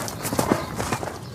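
Horse hooves clip-clopping in a steady uneven rhythm over a noisy, broad background, fairly close and moderately loud, with no talk.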